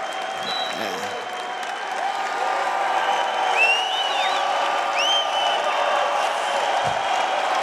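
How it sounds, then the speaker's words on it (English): Minnesota wrestling fans in an arena at the NWCA National Duals final keep up sustained applause and cheering, a broad crowd roar with scattered whistles and whoops throughout. "This is a rare occasion where the Minnesota fans are cheering an opposing team"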